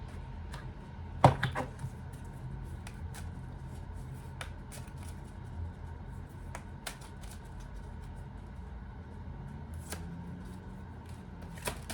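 Soft, close riffling and tapping of tarot cards being shuffled by hand, with sporadic crisp snaps and slaps over a quiet room.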